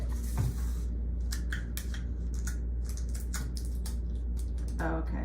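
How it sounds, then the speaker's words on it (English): Adhesive tape pulled and pressed to seal an icing bag for stenciling holiday cookies, a series of short crackly rips and rustles close by over a low steady hum. "Okay, so I'm taping it."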